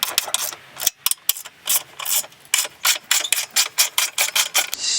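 Air Lift Performance suspension on a Mustang GT being tightened with a ratchet, heard as a fast, loud, close run of repeated clicking strokes that continues steadily, with no talking.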